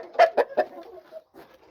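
Chickens and roosters at a breeders' sale of fighting birds give several sharp, close clucks in quick succession, then quieter short calls after a brief pause.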